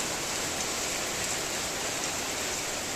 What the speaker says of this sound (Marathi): मस्त पैकी बाहेर पाऊस चाललाय